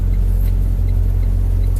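Semi truck reversing slowly while its trailer tandems slide, a loud steady low engine rumble and drone that stays constant throughout.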